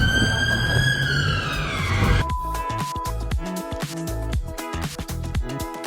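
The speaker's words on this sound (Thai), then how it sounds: "ถ้าสมมติมาได้ยินเสียงหวอนี่คือ มาถึงแล้วลอนดอน" A police siren wails nearby on a London street at first, then fades as dense street noise and clattering take over, with a brief steady tone midway.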